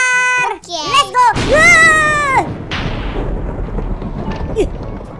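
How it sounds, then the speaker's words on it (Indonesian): Thunder in the Minecraft video game: deep, loud rumbling rolls on through the clip, mixed with sharp crackles and mostly under excited speech and game sounds. "Tiba-tiba ada guntur"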